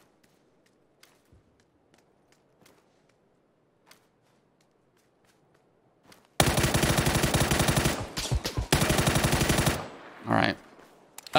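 Automatic gunfire sprays in PUBG on the Deston map with an unattached rifle, two long rapid bursts after a quiet stretch of faint ambience and footsteps, loud and close, the rattling shots broken by a short gap and trailing into echoes, with a brief spoken word.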